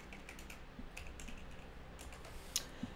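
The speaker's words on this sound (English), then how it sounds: "all you have to do is just type in Python," Someone types on a computer keyboard on Windows to enter a Python command. Soft, quiet keystroke clicks patter in an uneven rhythm for a few seconds, with no talking.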